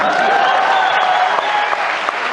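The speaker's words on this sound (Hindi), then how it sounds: "आप लोग भी तालियां बजा सकते हैं।" Crowd applause at a live stand-up comedy show, a dense steady wash of clapping held loud and even throughout, with no talking over it.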